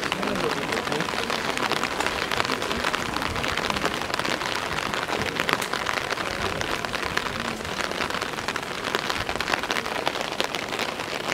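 Steady rain pours down in an old town, a dense, even hiss of drops striking hard surfaces that holds loud and unbroken from start to finish.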